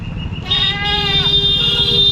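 A goat bleats loudly and close by, one drawn-out wavering call over a steady murmur of crowd noise at a weekly goat market in Khamgaon, Maharashtra.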